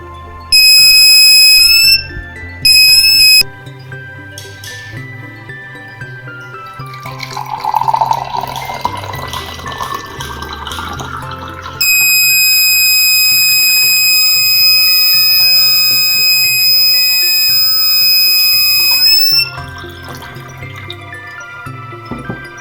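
A BC547 transistor water tank alarm circuit's buzzer sounds in steady electronic tones, with a loud high-pitched beeping bursts early and a sustained, continuous tone for several seconds later, heard alone without talk.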